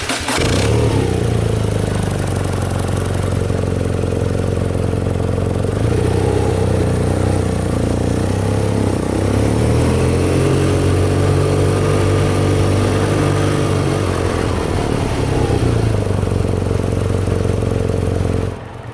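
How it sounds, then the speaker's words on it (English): A stock exhaust on a BMW R nineT Urban GS motorcycle runs loud and close for the whole stretch, a steady engine note with a few revs that rise and fall before it cuts off at the end. "I want to let you guys listen to the exhaust note on this bike because it is pretty sweet."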